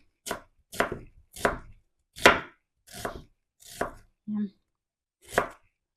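A knife chops through salad onion on a board in seven sharp, evenly spaced strokes, with a short muffled thud between the last two.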